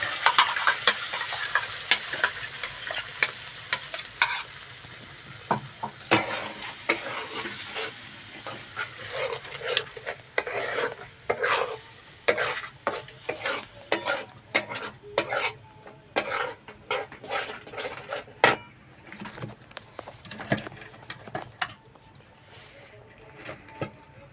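Masala and onion frying in a pan for shevbhaji, a spoon stirring and scraping against the metal in irregular bursts over a steady close sizzle, with occasional faint voice in the background.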